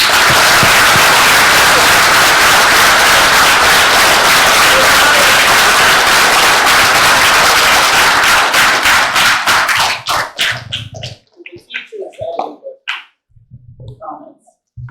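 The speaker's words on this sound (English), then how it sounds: "let's give one more big round of applause" A dense crowd applauding loudly for about ten seconds, then the clapping thins to a few scattered claps and fades.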